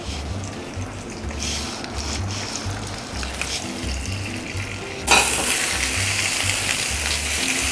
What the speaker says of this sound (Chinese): 之後我哋就可以煎佢噶啦